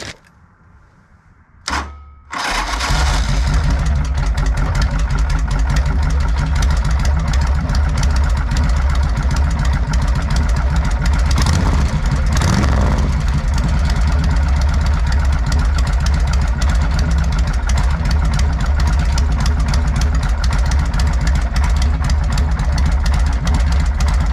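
A Harley-Davidson Sportster chopper motorcycle engine turns over after a brief quiet and some clicks, catches and settles into a loud, close, lumpy idle that runs steadily with slight revving.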